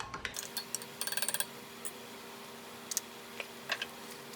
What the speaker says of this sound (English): we're gonna go ahead and stir up the drink here